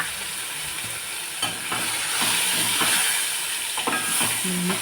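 Chillies and tomatoes fry in a pan, a steady soft sizzle broken by scraping stirs and a few clinks, close by and fairly quiet, with no talking.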